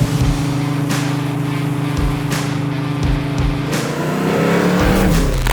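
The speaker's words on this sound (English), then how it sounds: "taking this 69 Mustang out for a cruise, or a rip as they say" 1969 Ford Mustang fastback restomod with a 347 stroker V8 and five-speed, its engine droning loud and steady with a deep rumble that swells slightly near the end.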